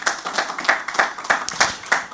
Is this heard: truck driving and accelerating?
no